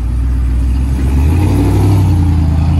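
A 2020 RAM 2500 pickup with a 6.4L HEMI V8 and Dynomax Race Bullet exhaust revs up close and loud, a deep steady rumble that swells partway through and holds.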